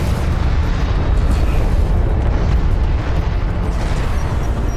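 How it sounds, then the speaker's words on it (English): Heavy explosions from an enemy airstrike rumble in a desert battle in Homeworld: Deserts of Kharak, a dense, loud, continuous roar of blasts filling the whole stretch. "Enemy airstrike inbound."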